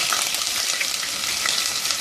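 Garam masala with garlic ginger paste sizzles steadily in a pot, a continuous close frying hiss with soft stirring and no voices.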